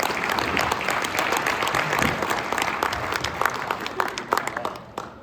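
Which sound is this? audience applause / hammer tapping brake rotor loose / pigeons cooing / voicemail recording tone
audience applause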